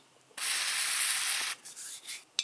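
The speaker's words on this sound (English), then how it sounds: "So what I'm going to do is use some carb and choke cleaner." Carb and choke cleaner is sprayed from an aerosol can while cleaning a John Deere 755 tractor. One loud, close, continuous hiss lasts about a second, followed by a couple of shorter, softer spurts.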